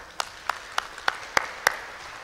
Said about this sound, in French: Voilà, et applaudissons